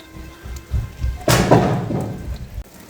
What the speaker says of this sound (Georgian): ახლა თოვაც დაიწყო ძვიმასთან ერთად